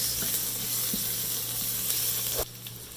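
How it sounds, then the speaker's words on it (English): Finely chopped ginger sautés in a hot pan, giving a steady, close sizzle with faint scraping ticks throughout that cuts out abruptly near the end. "finely chopped ginger, saute this for about 30 to 45 seconds"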